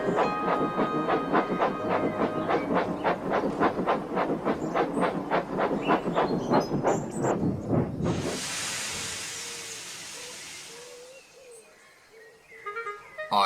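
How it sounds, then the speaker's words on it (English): A toy-style train from a children's railway story clatters closer in a steady run of rhythmic chuffs, then stops with a sudden loud burst of steam hiss that fades out, and a faint clank comes at the end. "Edward clanged him with his stopping train"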